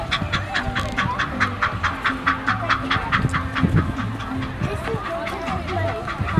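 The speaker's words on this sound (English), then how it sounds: "That's a choo-choo train." A passing train clacks in a steady, rapid rhythm at moderate distance at a tulip festival in Woodburn, Oregon, with voices talking over it.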